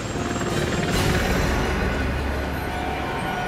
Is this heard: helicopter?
yes